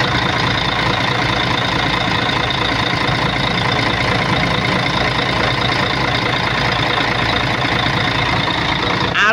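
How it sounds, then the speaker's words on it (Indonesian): A large Mercedes O500 double-decker bus engine idles loudly and steadily up close, a constant low rumbling chug that never changes pace. "Untuk suara mesin mercy-nya kita dengerin bareng-bareng"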